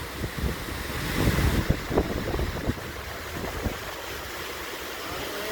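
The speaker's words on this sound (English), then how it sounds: "This is the top of the fall. This is where it starts really cascading." Amicalola Falls in Georgia cascades from the top of the waterfall as a broad, continuous rushing roar, heard close and alone with some wind buffeting the microphone.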